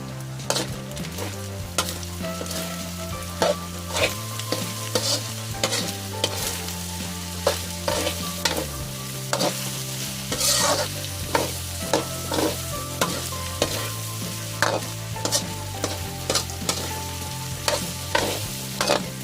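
Hotdog pieces sizzle steadily in a frying pan for a spaghetti dish while a utensil stirs them, scraping and knocking against the pan at frequent, irregular intervals. The stirring is close by and no one talks.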